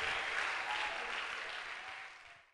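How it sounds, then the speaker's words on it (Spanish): A church congregation claps together in a steady, fairly faint burst of applause that fades out over a few seconds and stops abruptly. "Denle un fuerte aplauso al Señor."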